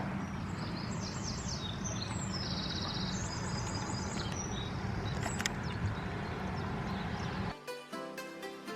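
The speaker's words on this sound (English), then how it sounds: "can you hear the birds chirping?" Birds chirp and twitter outside a window, a steady run of high calls over a constant broadband background hiss, with a brief burst of a different mechanical sound near the end.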